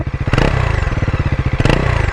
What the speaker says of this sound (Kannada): ಎಕ್ಸಾಸ್ಟ್ ನೋಟು ಜೋರಿದೆ, ಬೇಸ್ ಇದೆ